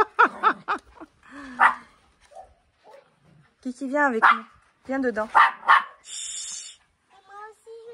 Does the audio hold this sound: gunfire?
no